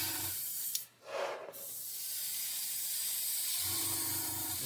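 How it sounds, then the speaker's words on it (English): Spray can hissing out silver metallic paint onto the edges of a pair of horns in a close, steady burst lasting several seconds, with a brief pause before it. "just spray the edges of these horns"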